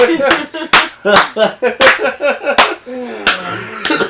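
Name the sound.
slow clap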